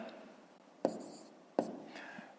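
A pen writes numbers in a fifth-grade maths exercise book, faint scratchy strokes with two sharper taps as digits are marked, quiet and close.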